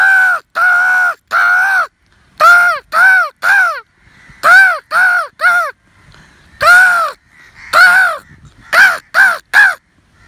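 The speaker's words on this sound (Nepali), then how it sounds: "यो धेरै प्रकारको हुन्छ कागको आवाजहरू" Crow-like caws, loud and close, come in quick rhythmic bursts of two to four harsh calls separated by short pauses, with nothing else beneath them.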